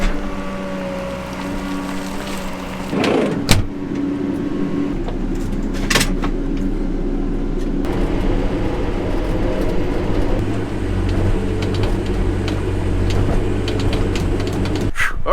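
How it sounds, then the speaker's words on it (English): A backhoe's diesel engine cranks, fires with a sharp clunk and settles into a loud, steady rumbling run close by, with a few metallic knocks over the drone. "we'll fire up the backhoe"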